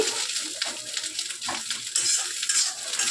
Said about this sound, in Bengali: অল্প পরিমাণে লবণ দিয়ে দিলাম দিয়ে ভালো করে এটাকে নেড়ে নিচ্ছি